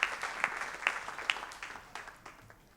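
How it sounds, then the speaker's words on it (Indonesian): A congregation at a worship tribute service claps for God, a moderate burst of applause with a few sharp, prominent claps near the front that gradually thins and fades out. "Kita berikan tepuk tangan buat Tuhan."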